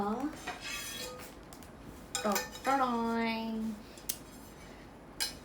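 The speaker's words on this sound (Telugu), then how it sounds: "తవా పాన్ అండి, దోశ తవా" A dosa tawa pan is handled, giving a few metallic clinks and knocks of cookware, with faint voice-like tones and other sounds in the background.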